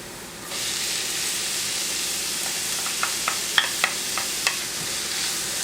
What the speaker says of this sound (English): You just want to saute both garlic and onion after the oil just poured